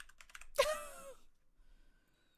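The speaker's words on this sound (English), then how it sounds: "I'm typing it in right now." Computer keys clatter in a few quick taps at the start, followed by a sharper burst of noise and then near silence, all fairly quiet.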